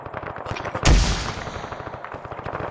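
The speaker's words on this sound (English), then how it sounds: "opening fire. Focus on the bunkers." Gunfire on bunkers in the video game Arma 3, a rapid close burst of automatic fire with one heavy blast near the start, continuous rattling shots throughout.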